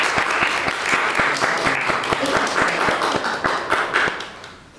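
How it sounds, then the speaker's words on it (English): Wedding guests applaud after a speech at a wedding ceremony, with a nearby pair of hands clapping in a sharp, regular beat over the broader applause, which fades out at the end. "I think that Thank you. deserves a round of applause."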